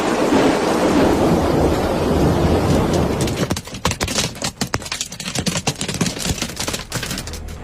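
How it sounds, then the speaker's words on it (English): A hailstorm batters Beijing with golf-ball-sized hailstones. A dense, roaring downpour gives way to a loud, irregular clatter of individual hard impacts. "a hailstorm recently ravaged the Chinese capital, Beijing, causing widespread destruction and chaos"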